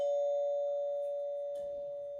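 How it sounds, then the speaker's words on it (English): A doorbell rings indoors in a house in France, one sustained electronic tone that fades slowly over two seconds, clear and fairly quiet. "the doorbell's just gone"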